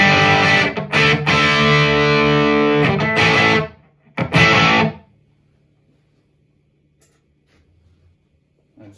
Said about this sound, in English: here's the dry sound of the amplifier.